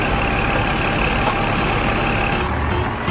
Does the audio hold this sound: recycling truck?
yes